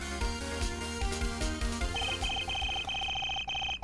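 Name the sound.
talking clock sounding, from video game Phoenix Wright: Ace Attorney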